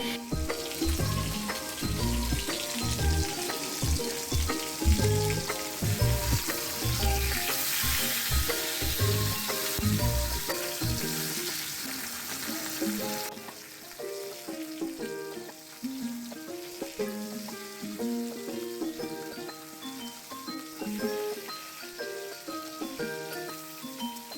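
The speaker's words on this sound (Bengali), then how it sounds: "এবার মাছগুলোকে ভেজে নিচ্ছি" Marinated fish fries in a pan, giving a steady, close sizzle with bright crackle that carries on for the whole stretch, loudest early and easing slightly later, while busy background music runs underneath.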